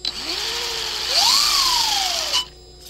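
A Losi Promoto MX RC motorcycle's electric motor whines during a throttle check, its pitch climbing then tapering off over a steady mechanical hum before cutting out abruptly near the end.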